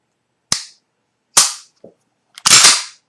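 A CZ 75 P-01 pistol dry-fired in double action, giving three sharp, loud metallic snaps spaced about a second apart and a small click between them. The last snap is a doubled, longer clack, with no voices.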